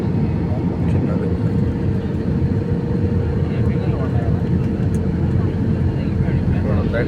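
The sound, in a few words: small airplane flying near airport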